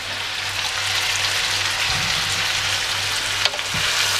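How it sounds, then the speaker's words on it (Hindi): Noodles hitting a hot pan give a steady, soft sizzle and frying hiss throughout, with a couple of light utensil knocks near the end and no talking. "अब इसमें मैं ये नूडल्स ऐड कर दूंगी।"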